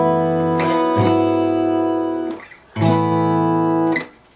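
Guitar strums a pre-chorus chord progression from a pop song tutorial, two sustained ringing chords separated by a brief pause as the player shifts shapes, close and clear with no talking.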